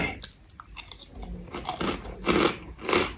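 Crispy fried pork cracklings are bitten and chewed close to the mic in several loud, uneven crunches that grow stronger toward the end.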